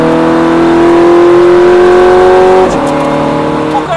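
A Ferrari F430 engine revs hard on a race track, a loud rising whine that climbs steadily then drops sharply at a gear change before building again, up close and continuous.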